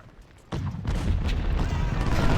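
Cannon artillery fire in the Civil War strategy game Ultimate General, a low, dense rumble of booming shots that swells in abruptly after a quiet half second and keeps pounding steadily.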